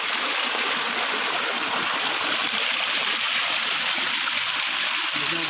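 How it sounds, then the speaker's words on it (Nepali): Excess water runs steadily out of a flooded rice paddy during the monsoon, a continuous loud rushing and gurgling flow close by that holds even throughout. "धान रोपेको ठाउँबाट खोलिदिएको रहेछ पानी बढी भएर।"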